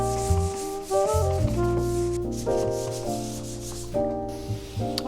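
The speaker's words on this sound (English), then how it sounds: "It's a sander pad thing." A sander pad drawn lightly across drywall makes a continuous rubbing, scraping texture with uneven strokes in a basement renovation.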